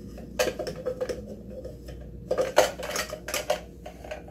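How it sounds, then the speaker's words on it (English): A camping kettle holding spare headlamp batteries is handled up close, giving a few loud metallic clanks and rattles in two short bursts with quiet gaps between. "Inside the kettle, I put spare batteries for my headlamp."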